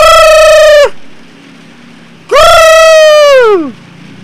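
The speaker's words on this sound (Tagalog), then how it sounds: "Ayan yun ngay ang manok." A rooster crowing loudly and close, two long strained calls separated by a short pause, the second drawn out and falling at the end, with no speech over it.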